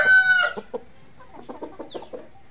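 Gavrani country chickens, a traditional farm breed, cluck and crow nearby, opening with a sustained harmonic crow followed by a series of short, evenly spaced clucks.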